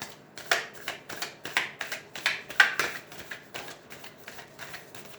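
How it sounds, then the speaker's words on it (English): A tarot card deck split and shuffled by hand, a rapid run of crisp riffling flutters and soft slaps repeating for several seconds, close and fairly quiet. "I just split the deck to kind of give it a shuffle"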